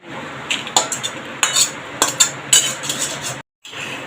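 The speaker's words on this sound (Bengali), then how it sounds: "কড়াটা এবারে ধুয়ে বসিয়ে দিয়েছি," A washed wok is set down and shifted on a stove, making a string of close metallic clanks and scrapes in an uneven rhythm, followed by a brief pause.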